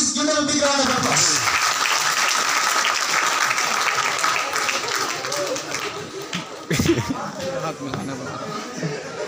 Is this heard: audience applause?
yes